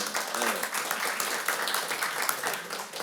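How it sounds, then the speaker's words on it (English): Steady clapping and applause from a crowd at a city council meeting in Allen Park, dense and continuous for the full three seconds with no voices on top. "I need a good hand of applause, what do you think?"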